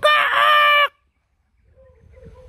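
A pet rooster crows once, loud and close, a sustained call lasting under a second, followed by faint low background noise.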